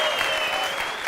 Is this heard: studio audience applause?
yes